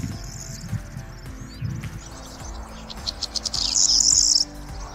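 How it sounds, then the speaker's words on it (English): Birdsong captured with a BirdMic microphone: bright chirps and a rapid trilling song ring out over a soft outdoor ambience with faint insect buzz and low rustling, growing denser and louder toward the end. "The result is an immersive experience that will make you enjoy birdsong like never before."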